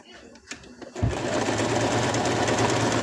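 A sewing machine stitching a small plush toy starts up after a second of quiet handling noises and then runs in a steady, close, fast whir.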